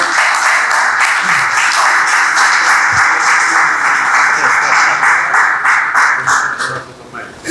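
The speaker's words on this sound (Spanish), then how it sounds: "Ahora le paso el aplauso." Audience applause for Professor William Mejía Chalas after a philosophy lecture, dense and loud, holding steady for several seconds before fading toward the end.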